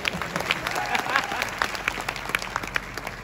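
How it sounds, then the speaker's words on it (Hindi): Audience applause from a crowd gathered at a gold watch presentation event, a steady wash of many hands clapping with scattered sharper claps throughout, moderately loud and continuous. "मेरे लिए भी एक बार जोरदार तालियां हो जाए"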